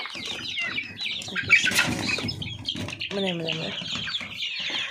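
Chicks in a new chicken coop flock in with soft clucking, chirping and brief bursts of wing flapping close by, while a voice talks over them.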